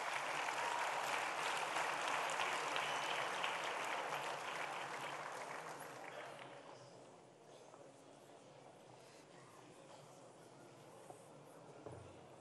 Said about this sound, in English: A round of applause for the choir